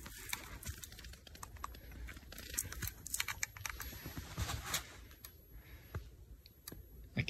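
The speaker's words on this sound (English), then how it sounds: "I can hear the energizer clicking." Electric fence energizer in a bee yard, producing faint sharp clicks at irregular intervals over a quiet outdoor background.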